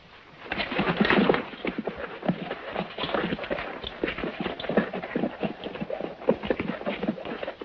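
Several horses' hooves clip-clop in a dense, continuous rhythm at moderate loudness as riders arrive, in a 1967 western film.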